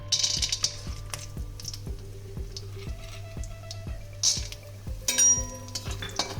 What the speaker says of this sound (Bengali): এবার বড়িটা ভেজে নেবো